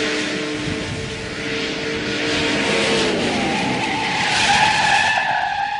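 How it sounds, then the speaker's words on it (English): A classic muscle car braking hard from 60 mph, tyres skidding in a long, loud, wavering screech that swells toward the end over a low rumble, heard close. "60 miles an hour is pretty fast in one of these old cars to just be slamming on the brakes"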